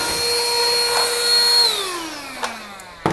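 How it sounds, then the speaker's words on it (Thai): A HAN RIVER cordless handheld vacuum cleaner runs on a mattress, giving a close, steady high whine that drops in pitch as the motor winds down, followed by a few sharp clicks and knocks. "หรือจะแบบนี้ก็ได้ครับดูดฝุ่นที่นอนครับ"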